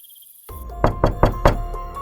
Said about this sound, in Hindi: जोर जोर से दरवाजे पीटने की आवाज सुनकर उसका नींद टूट जाती है